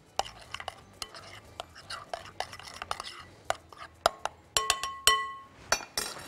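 A small spoon clinks repeatedly against a pan while stirring a lamb dish, bright metallic taps at an uneven pace, growing quicker and louder toward the end, over a quiet kitchen background.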